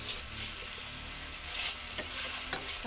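Beef bone broth ingredients sautéing in a pan for a mung bean soup, a steady soft sizzle with stirring scrapes, growing a little louder toward the end, with no talk.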